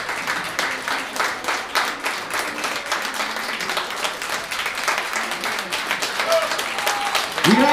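Sustained audience applause at an opera night concert, dense steady clapping from a hall crowd with a voice breaking in near the end.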